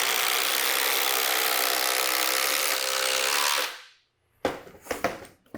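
Flex and Milwaukee Gen 3 impact drivers, both at top speed on fully charged batteries, drive 1/4 by 6 inch engineered fasteners: a loud, steady hammering whir for about three and a half seconds, then a sudden stop and a few sharp knocks and clatter.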